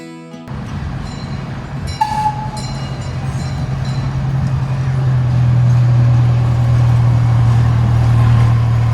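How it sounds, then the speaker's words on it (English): A small park train running through a Houston park rumbles steadily and grows louder as it approaches, with a low sustained engine drone, a brief horn-like tone early on and faint clatter, no voices. "They even have a train that runs through the park to help people get around."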